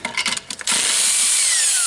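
Power tool, likely an impact gun, spins on new lug nuts for a 1JZ-swapped S14 drift car in a garage: a few short clattering bursts, then a loud sustained whine with falling pitch that runs to the end.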